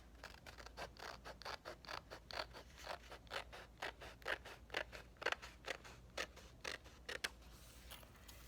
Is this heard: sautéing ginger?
no